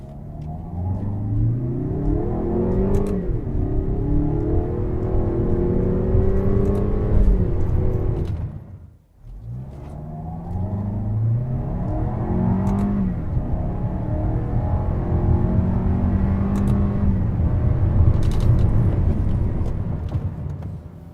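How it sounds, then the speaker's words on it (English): Digital engine noise piped into the cabin of a 2015 Lexus NX 200t F Sport, a loud, steady drone with its pitch climbing through two long acceleration sweeps, separated by a brief dip. "they're getting to a point where they're creating digital engine noise"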